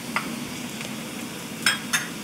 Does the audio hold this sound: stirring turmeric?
yes